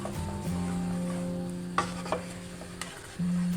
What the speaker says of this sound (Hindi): लेकिन मैं मुसलसल साथ साथ चम्मच हिला रही हूँ।